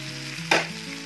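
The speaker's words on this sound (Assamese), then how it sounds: "এয়া এইখিনি ভাজ খাইছেহি।" Boiled potatoes and tomatoes frying with spices in hot oil, a steady close sizzle with a short burst of louder crackling as they are stirred, no voices.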